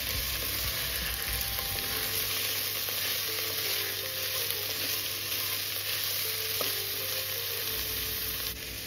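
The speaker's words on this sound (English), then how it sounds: "go ahead and add carrot, pumpkin and potato chunks" Carrot, pumpkin and potato chunks fry in a pot with a steady, dense sizzle, while occasional utensil scrapes and stirs sound through for the whole stretch; no voices.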